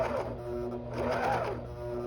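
A coverstitch machine running with a binder attachment, stitching down fabric binding in a steady, continuous mechanical hum with a faint rhythmic whir, close and moderately loud, with no talking.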